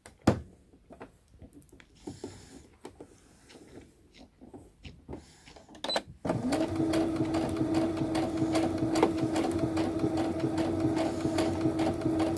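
Sewing machine running a long steady seam along a fabric strip for a shirt, a continuous close whir that starts abruptly after several seconds of small handling taps and rustles, holding an even hum to the end.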